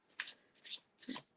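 Coated cards of a new playing card deck rub and riffle in three quick, soft papery bursts, close and quiet, with no voices.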